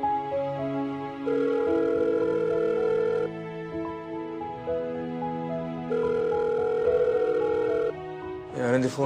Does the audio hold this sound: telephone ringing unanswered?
yes